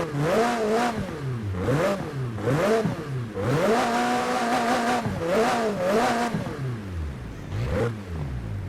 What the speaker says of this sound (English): So that's the sound of the McLaren.